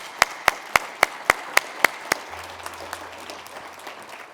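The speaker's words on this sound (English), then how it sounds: "Round of applause, please." An audience at a CU Boulder sustainability event applauds, opening with about eight sharp, evenly spaced claps that give way to a softer, scattered crowd clapping which fades out.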